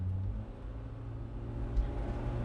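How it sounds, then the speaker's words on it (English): A 1993 Geo Tracker with a 3-speed automatic accelerating at full throttle up a ramp, heard as a steady low engine drone from inside the cabin, fairly quiet and even, without talk. "We're gonna accelerate at full speed to get up close to freeway speed"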